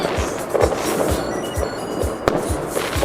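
New Year fireworks and firecrackers go off in the Philippines on the eve of 2025. A rapid string of sharp pops and cracks repeats steadily against a constant backdrop of more distant bangs and crackle.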